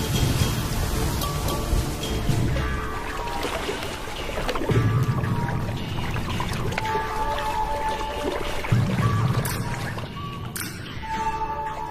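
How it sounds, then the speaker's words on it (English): The first real rains in a year fall on a wild landscape, a steady patter of drops on surfaces with heavier gusts recurring every few seconds, close and moderately loud. "The first real rains for a year."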